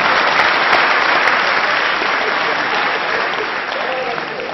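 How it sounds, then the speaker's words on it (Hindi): An audience at a poetry recital (kavi sammelan) in Tinsukia claps loudly and continuously, a dense wash of applause that fades slightly toward the end. "और अब आपकी तालियां उठेंगी।"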